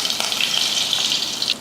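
Mustard, fenugreek and cumin seeds sizzle in hot oil during tempering for Tamil idli kulambu, giving a steady bright crackling hiss with small pops, close and continuous throughout.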